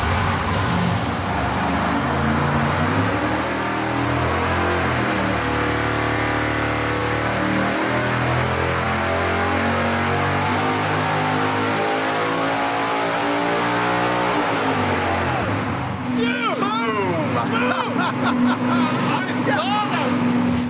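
Supercharged big-block Chevy V8 on nitrous, pushed toward 1,500 horsepower on an engine dyno, holds a loud, sustained wide-open roar with climbing harmonics, then cuts off abruptly as voices break in near the end.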